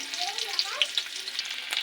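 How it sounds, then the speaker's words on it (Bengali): Chopped onion frying in hot mustard oil with black cumin seeds in a kadai, giving a brief, fairly quiet sizzle with light crackles. "পেঁয়াজ কুচিটাকে একটু ভেজে নেব।"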